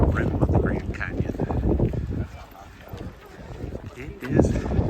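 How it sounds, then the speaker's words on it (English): Strong wind at the Grand Canyon's South Rim buffets the microphone in loud, uneven gusts, easing briefly before surging again, with a voice speaking faintly underneath. "It is pretty windy, so we don't want to get too close."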